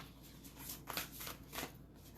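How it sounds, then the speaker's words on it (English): Quiet, quick riffling and soft slaps of a deck of cards being shuffled, a few brisk bursts close by. "I'll just give him one little shuffle here"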